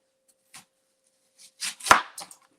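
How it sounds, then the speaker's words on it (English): An onion is chopped with a knife on a board: a few separate sharp cuts, then a quick cluster of louder chops near the end, close and clear with no talk. "Can I go ahead and chop the onion and put it in the blender"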